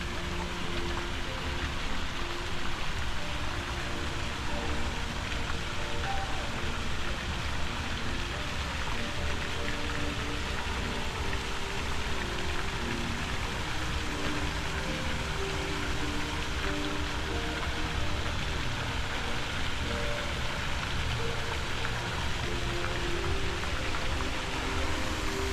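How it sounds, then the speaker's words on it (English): Steady rain falling in Central Park, New York City: a dense, even hiss of drops on surfaces, close and constant throughout, with no clear voices. "I want to get out of the rain."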